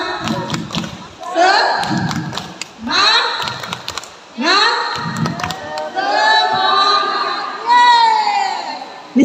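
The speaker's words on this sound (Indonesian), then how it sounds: "boleh kita tepuk semangat?" A group of teachers at an indoor workshop perform a rhythmic spirit clap together, sharp claps mixed with loud group chanting and cheering voices.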